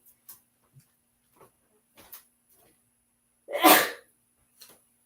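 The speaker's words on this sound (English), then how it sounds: "I had to sneeze" A single loud, sharp sneeze close by, preceded by soft small rustles and breaths in an otherwise quiet room.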